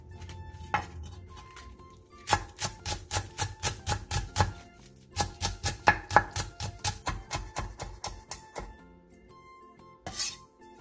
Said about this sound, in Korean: 대파 3분의 1개를 길게 반으로 갈라 쫑쫑 썰어주세요.